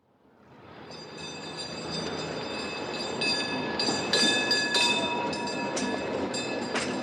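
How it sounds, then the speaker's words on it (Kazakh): A tram runs on rails, its rumble building from quiet to a loud steady roar with thin metallic squeals and ringing tones from the wheels riding over the top. "Өте жақсы, бұл трамвай."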